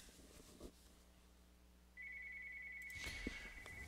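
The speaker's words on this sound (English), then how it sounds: "Sorry about the phone in the background" A telephone rings in the background of a room, a steady bright electronic tone that enters partway through and keeps going under a low hum.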